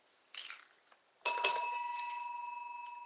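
Bells ringing indoors: a small soft jingle, then a bright bicycle-style bell struck once or twice, ringing clearly and decaying slowly.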